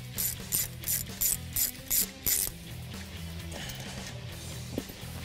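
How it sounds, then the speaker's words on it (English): A ratchet loosens the top bolt during a Roush supercharger install on a 2015-2017 Mustang GT 5.0L, giving about seven quick, close bursts of clicking, then quieter mechanical shuffling. "We're gonna start though by removing this top bolt right here."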